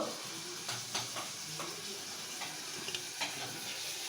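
Oil heats in a pan before pumpkin and onion go in for frying, giving a faint, steady sizzle and hiss with a few soft scattered ticks and pops.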